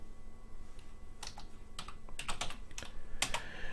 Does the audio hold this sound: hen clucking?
no